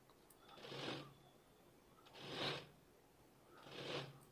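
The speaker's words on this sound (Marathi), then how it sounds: "ती लेस ठेवून आणि ती आपल्याला अशी शिलाई मारून घ्यायची" A sewing machine stitching lace onto blouse fabric, three short soft whirring runs spaced about a second and a half apart, faint and close.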